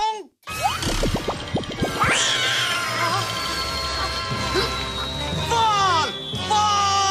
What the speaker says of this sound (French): Prêt à sauver cet adorable petit chaton?